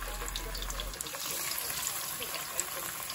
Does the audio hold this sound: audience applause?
no